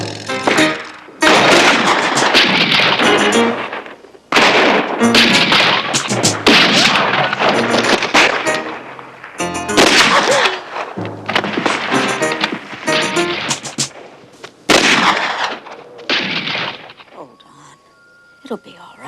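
Gunfire in a scene from the film Up Hill All the Way: repeated loud bursts of shots in clusters, separated by brief pauses, with sharp cracks and echoing booms that trail off into quieter scattered pops near the end.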